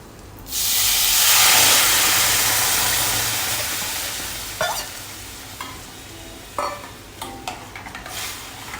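Spice paste with asafoetida and turmeric hits a hot pan for sambar, bursting into a loud, close sizzle that gradually settles, followed by scattered scrapes and clinks of stirring.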